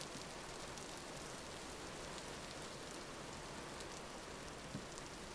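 Steady rain in the video game Vintage Story, a dense, even hiss of falling drops that holds constant and faint throughout, with no voices.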